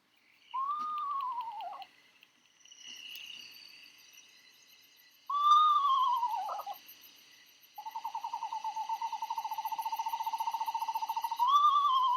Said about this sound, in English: So that's called the whinny, because it sounds like a horse whinnying.